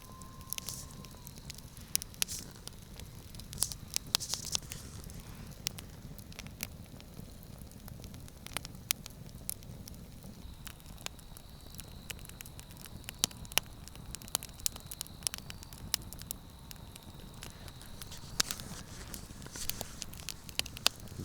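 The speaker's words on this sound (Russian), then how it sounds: "Трещит, искры летят, дрова сосновые." A pine-wood campfire burning at night beside a river, crackling and popping with scattered sharp snaps over a low, soft, steady hiss; close but fairly quiet, with no talking.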